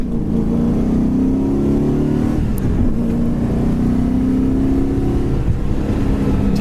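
A 1997 Pontiac Trans Am engine drones loudly and close at a steady rev, swelling briefly near the middle, with no talking.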